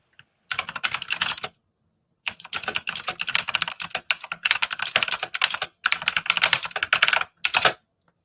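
Rapid typing on a computer keyboard clatters in several dense bursts split by short silences, close and clear, with no talk.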